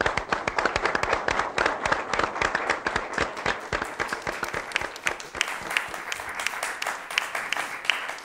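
A crowd applauds at a celebration for CBA 24, loud dense clapping with sharp individual claps standing out, continuing steadily for several seconds before easing slightly toward the end.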